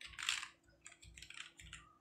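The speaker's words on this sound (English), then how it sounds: "So I'm typing" Quiet computer keyboard typing, a few soft, irregular clicks and short bursts of keystrokes close by in a still room.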